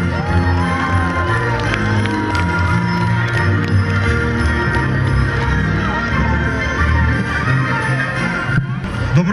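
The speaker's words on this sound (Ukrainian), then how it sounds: "Зустрічаємо оплесками!" A crowd at a New Year tree celebration cheers and applauds loudly and continuously, with children's shouts and festive background music mixed into the din.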